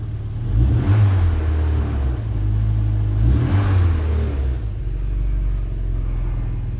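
A Volkswagen Golf 2 GTI 16s engine revs up twice in close succession, a deep rumbling rise and fall heard close by, then settles into a steady mid-pitched idle drone with no talk.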